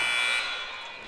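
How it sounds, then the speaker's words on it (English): A loud, steady electronic buzzer sounds for about half a second to end the third quarter of a high school basketball game at a holiday tournament, then cuts off and leaves a lingering gym echo. "at the buzzer"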